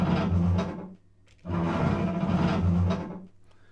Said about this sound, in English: That is the sound of a door scraping open.